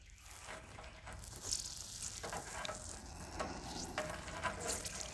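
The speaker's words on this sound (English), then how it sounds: "You can hear that flux just boiling out of there." Solder flux boiling and sizzling on the lower tank of an antique tractor radiator under heat, a steady faint crackling hiss with scattered pops, alone with no talk.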